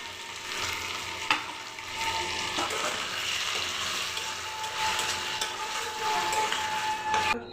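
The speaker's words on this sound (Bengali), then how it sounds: "এই এখন ক্যাপসিকাম ভাজছি" Capsicum fries in a pan, with ginger, chili and cashew paste for paneer butter masala, making a continuous close sizzle and occasional spatula scrapes and knocks, with no talk.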